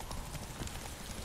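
Horse hooves clip-clopping in a rapid gallop during a race in The Witcher 3, a steady continuous pounding rhythm with a dense game soundscape.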